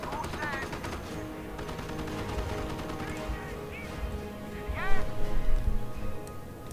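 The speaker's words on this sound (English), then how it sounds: "Staghound taking fire" A Staghound armored car takes fire during a Company of Heroes battle, with sustained machine gun bursts and scattered shots rumbling continuously, swelling louder toward the end, under faint voice chatter.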